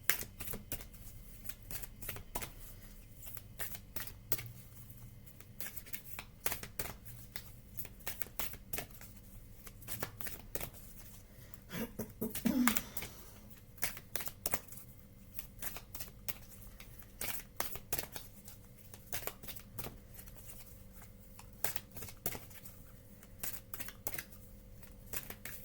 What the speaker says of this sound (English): These cards are hard to shuffle because they are the wild wisdom of the Fairy Oracle.